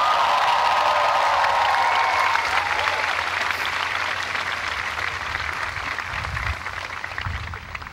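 A large crowd at a Dartmouth commencement applauds steadily, a dense wash of clapping that slowly thins toward the end, with some faint cheering mixed in.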